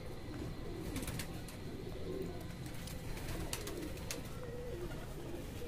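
Pigeons settling onto a perch at night coo softly at a distance, with a few brief fluttering wingbeats over a constant low background hum.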